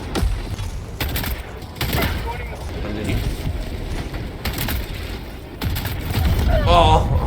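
An explosive crossbow in Helldivers 2 fires in a rapid run of booming blasts and thuds, stacked close together and loud, while players talk over the gunfire.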